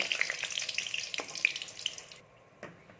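Potato pithas fry in hot oil after being flipped, giving a soft crackling sizzle with small pops that fades and stops abruptly near the end, followed by one faint late crackle.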